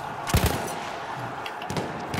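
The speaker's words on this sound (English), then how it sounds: "someone shooting us" Gunfire in the video game Battlefield 1: a loud close burst of shots early on, then scattered further shots over a steady battlefield din.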